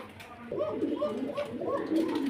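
Pigeons coo close by in soft, throaty, rolling calls that repeat steadily.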